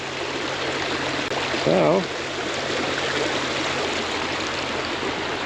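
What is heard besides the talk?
stream water running after rain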